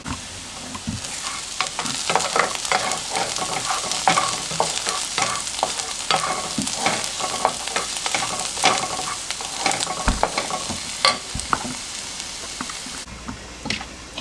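Onions and mushrooms fry in a pan with a steady, close sizzle throughout, broken by frequent scraping strokes as the food is stirred, with no talking.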